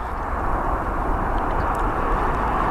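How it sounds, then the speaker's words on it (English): Ethiopian Airlines Boeing 787 Dreamliner at London Heathrow gives off a loud, steady broadband jet engine roar at fairly close range, with no voices. "Ethiopia's 787 Dreamliner."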